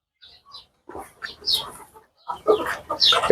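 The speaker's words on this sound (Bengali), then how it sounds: "এই রানিং মুরগি ডিমের মুরগি রানিং ডিমের মুরগিগুলো" Native hill laying hens cluck in short scattered bursts, sparse at first and growing busier and louder toward the end, with no talking.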